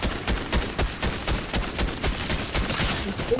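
Rapid bursts of gunfire in Fortnite, dense repeated shots cracking through a busy battle, loud and close with no talk over them.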